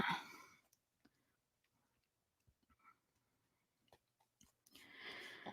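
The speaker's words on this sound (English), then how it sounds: "I am shuffling and shuffling." Tarot cards being shuffled by hand at close range: a soft riffling burst at the start and another near the end, with faint scattered clicks and near-silence between them.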